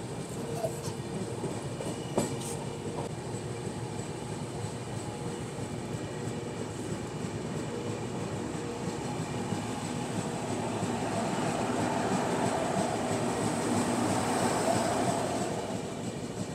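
The Swarna Jayanti Express runs along the rails, a steady rumble of wheels and carriage noise with faint clicks, growing slightly louder and brighter toward the end, heard from inside a third AC coach without talk.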